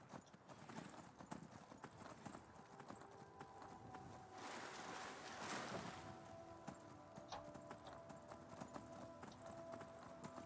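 Horse hooves clip-clop steadily in Skyrim Dawnguard, a mounted ride across open terrain, the rhythmic beats mid-loud amid game ambience and a brief swell of wind or rushing noise partway through.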